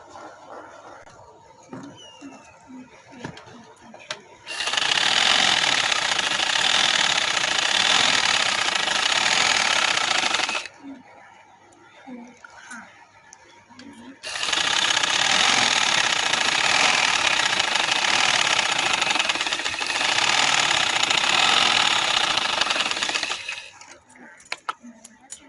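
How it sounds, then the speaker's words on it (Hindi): Sewing machine stitching trouser fabric, running in two long, loud, steady bursts of about six and ten seconds, with quieter pauses and faint clicks between and around them. "इधर सिलाई लगाऊंगी।"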